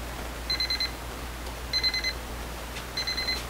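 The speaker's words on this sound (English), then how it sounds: "Listen for the beep, open it up, and your pizza is finished." A Breville toaster oven signals it is done: three short bursts of rapid high-pitched beeping, evenly spaced, sound over a low steady hum.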